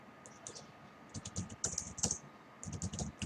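Fast, light clicking of keys on a computer keyboard, typed in short bursts with brief pauses in a quiet room and no voices.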